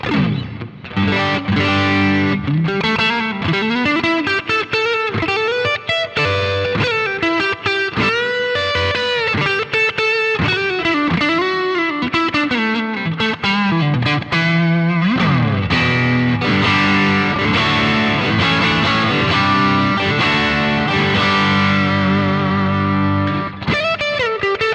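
Electric guitar runs through a Boss GT-1000 on the Studio Rats patch, giving a loud, continuous distorted lead with chorus shimmer, sustained bends and fast phrases, played alone without any talking.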